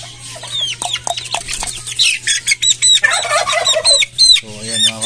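Silkie chickens and their young chicks cluck and peep near a newly built coop, with a quick, uneven run of short calls and high chirps that rise and fall close by.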